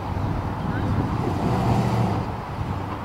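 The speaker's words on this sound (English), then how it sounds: "And off goes Rich, taking it around the parking lot." A 1967 Dodge Coronet in bright blue paint drives around a parking lot, its engine a steady low rumble heard at moderate distance.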